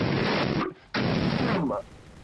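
Two loud blasts of gunfire in the video game Jurassic: The Hunted, each a dense burst of rapid shots lasting over half a second, separated by a short gap and followed by a quieter tail.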